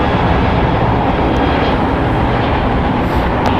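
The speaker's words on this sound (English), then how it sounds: "United Airlines Flight 1627 going to Seattle on Boeing 737-900" Broadband jet roar from a 16-year-old United Airlines Boeing 737-900 on a foggy day at Los Angeles International Airport, loud, steady and close, continuing throughout with no voices.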